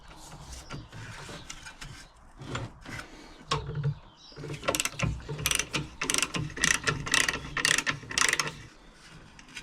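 Socket wrench ratcheting on a Whitworth bolt of a 1942 Danarm two-man chainsaw during strip-down, giving rapid close metallic clicking bursts that grow denser and louder through the second half, with no talk.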